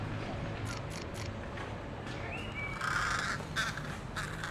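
A crow caws several times over steady outdoor background noise, in short harsh calls scattered across the stretch with a clearer bird call in the middle, at moderate distance.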